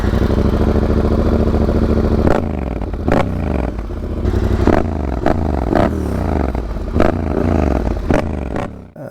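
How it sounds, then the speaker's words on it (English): A Yamaha Tenere 700 motorcycle with a Dominator HP6 full exhaust system runs loud and close, a deep steady engine drone broken by several sharp blips and revs, with metallic clatter. "It's a Dominator full system and the slip-on is called HP6 and I really like the sound."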